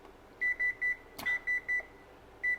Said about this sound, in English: we're going to set our timer for 20 minutes